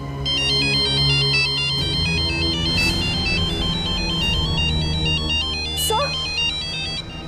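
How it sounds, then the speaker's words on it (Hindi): A mobile phone ringtone plays a repeating electronic melody loudly and continuously, with a few brief background noises. "सर, ये उसी का फोन है।"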